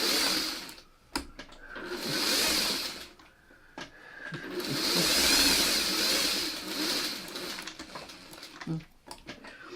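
A sewing machine runs in bursts while stitching a fabric seam for a Thomas the train plush, with steady mechanical whirring that starts and stops several times over short pauses.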